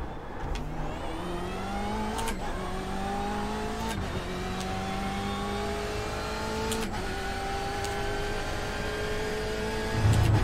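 Race car engine in a sim racing video game at Monza, climbing steadily in pitch through the gears with sharp shift breaks, continuous and unaccompanied by voices.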